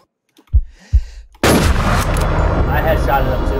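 Gunfire in the Infestation shooter game: two sharp thuds, then a loud burst of rapid shots continuing to the end, with a voice faintly underneath.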